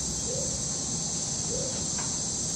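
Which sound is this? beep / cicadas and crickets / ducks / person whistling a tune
cicadas and crickets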